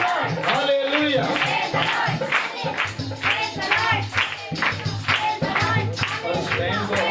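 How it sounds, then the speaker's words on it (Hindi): Loud clapping from a gathered crowd at a Hindi-speaking Christian church gathering, dense and sustained with cheering voices mixed in throughout. "जोरदार तालियां आप"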